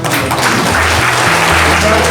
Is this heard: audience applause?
yes